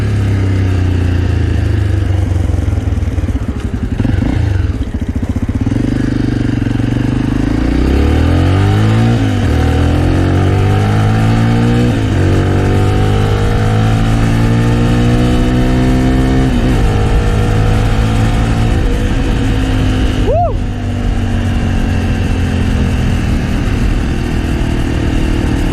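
A Honda AX1 250cc supermoto motorcycle engine idles loudly and close, then revs up in several rising and falling sweeps, steady and continuous throughout.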